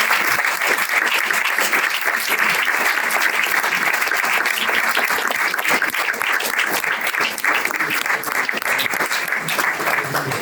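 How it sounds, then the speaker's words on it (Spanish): A lecture audience claps steadily for about ten seconds, a dense, loud and even wash of many hands with no pauses or voices standing out. "vamos a dar un aplauso"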